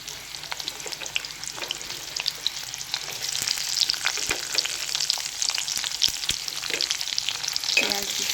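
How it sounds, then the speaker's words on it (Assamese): Steady crackling sizzle of onions frying in a pan with a bay leaf, with scattered pops and occasional stirring scrapes, close and continuous with no talking. "পিঁয়াজখিনি অকণমান ভাজিব লাগিব"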